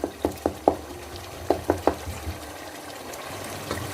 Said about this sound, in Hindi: तो इसको हम अच्छे से भून लेते हैं